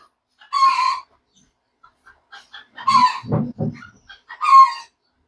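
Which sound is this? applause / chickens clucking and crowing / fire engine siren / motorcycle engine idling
chickens clucking and crowing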